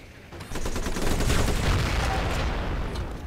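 Bombing attack in the strategy game Civilization Beyond Earth, a loud sustained burst of rapid explosive crackling and booming impacts that swells in after a short moment and holds steady before easing.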